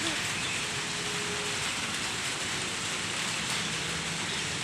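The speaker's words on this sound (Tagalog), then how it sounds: "umuulan ngayon" Rain falls on an open rooftop in an even, continuous hiss that stays at a steady low level for several seconds.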